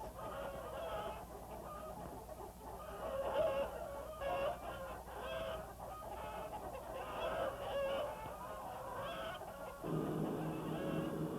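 A flock of chickens clucking steadily throughout, dense overlapping calls at moderate loudness with a faint crow in the mix, no voices.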